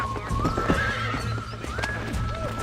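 A horse in the Red Dead Redemption video game neighs with a rising whinny while hooves clip-clop steadily underneath, close and clear, with no talking.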